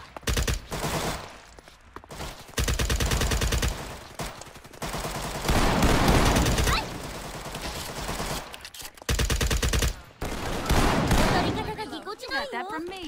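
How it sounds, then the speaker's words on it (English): Hip-fired automatic gunfire in Garry's Mod, loud bursts of shots coming in several long stretches with short gaps between, with voices talking among the shooting. "Oh, I'm firing from the hip."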